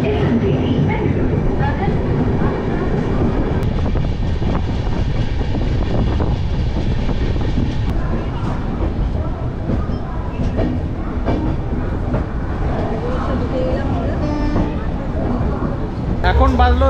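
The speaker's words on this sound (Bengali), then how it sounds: "এবারে ছেড়ে দেবে ট্রেন," A passenger train pulls out of a station, its continuous rumble and clattering wheels sounding close and loud for the whole stretch, with voices speaking over the noise.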